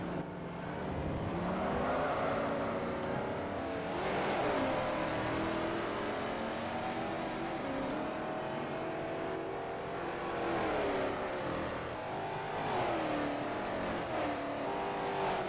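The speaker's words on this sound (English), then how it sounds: "And there's the number 41 Firebird of Yan San San" Historic Trans Am race cars, including a number 41 Pontiac Firebird, race at Laguna Seca in a sim racing game. Loud engines drone continuously, rising and falling in pitch through shifts and corners, with no talk.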